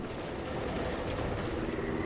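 Rapid cannon fire in the video game Space Marine 2 shoots asteroids from the sky, a dense stream of booming shots rattling continuously over a game soundscape, loud and unbroken across the short moment.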